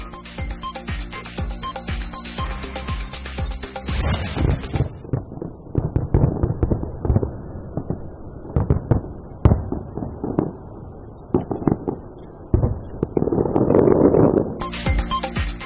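Fireworks crack and pop in irregular bursts, with sharp bangs and crackles of varying loudness over a busy background, preceding Russia's Winter Olympics closing ceremony.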